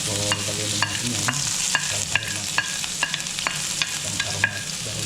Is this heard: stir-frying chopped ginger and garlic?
yes